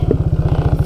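An ATV engine running while being ridden, a loud, close, rapid rhythmic putter from the motor throughout the short stretch.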